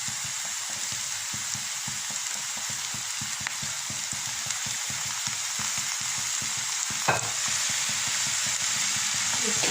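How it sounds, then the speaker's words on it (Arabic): Onions fry in oil in a pan with a steady, close hiss and crackle, broken by dense small pops and one sharper snap near the end, and no talking. "بعد ما تشحرات البصله ديالنا تشحرات مزيان"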